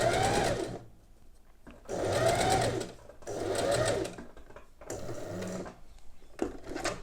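A sewing machine stitches a pin hem in several bursts of whirring running, each lasting about a second, separated by short pauses for folding, close and clear with no talk.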